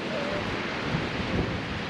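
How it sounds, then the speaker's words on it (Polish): Strong wind gusting across Sopot beach on the Baltic coast, a steady broadband roar of wind buffeting the microphone with the wash of waves beneath, continuous and loud throughout. "Dzisiaj, bo dosyć mocno wieje."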